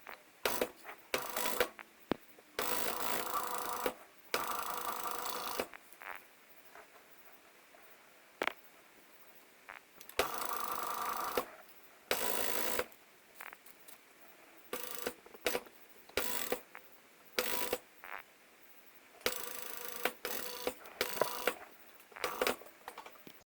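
Overlock sewing machine serging the fabric edge of a French khimar, loud buzzing runs of stitching in repeated bursts of a second or several, broken by short pauses, no voices.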